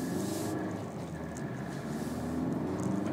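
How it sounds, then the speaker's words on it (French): An Opel Mokka 1.7 CDTi 130 hp 4x4 diesel engine drones steadily while accelerating, with a low, even, moderately quiet rumble heard from inside the car and no one speaking. "c'est un moteur typique diesel, puisqu'on entend les cliquetis du diesel à l'accélération"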